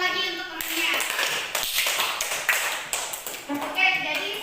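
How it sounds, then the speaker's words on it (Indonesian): Classmates in a school lesson clap for a fellow student, a stretch of scattered, uneven hand claps at close range with a voice speaking at the start and end. "Tepuk tangan lagi untuk temannya."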